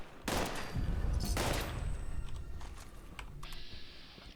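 Explosive-effect guns fired at a target in the video game Fallout 76, a loud burst of rapid shots and impacts, then a second burst and fading echoes with quieter game sounds after.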